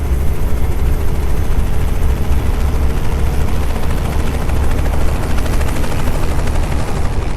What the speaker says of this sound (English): I always have helicopters right on me.